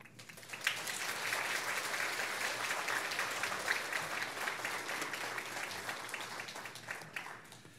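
A church congregation gives a pastor a warm welcoming applause, a dense, even roar of clapping that swells quickly and holds steady for about eight seconds before tapering slightly.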